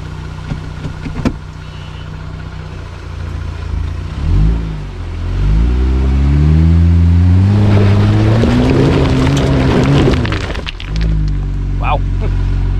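An off-road vehicle in four-wheel drive revs its engine, the pitch rising and falling through several climbing surges before easing back, close and loud, with a person talking over it.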